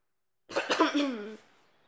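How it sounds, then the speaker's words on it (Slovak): A single close, raspy cough with a voiced, throaty tail, set against silence. "Hrozne kašlem."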